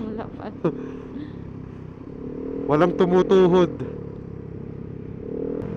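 Many motorcycles ride along the Marilaque highway during a Saturday breakfast ride, heard from a Honda PCX 160: a steady engine drone with a louder revving pass midway, while someone talks over it.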